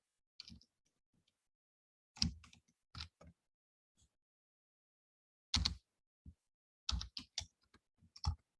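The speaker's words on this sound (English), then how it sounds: "Let me just type that." Computer keyboard typing in scattered bursts of key clicks separated by pauses, close and moderately loud in a quiet room with no talking.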